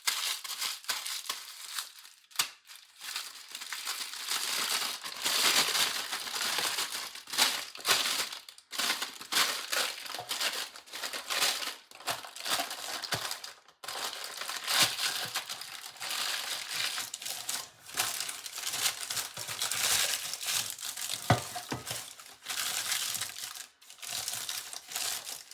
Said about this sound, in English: The trick to getting baking paper to behave is to beat it up.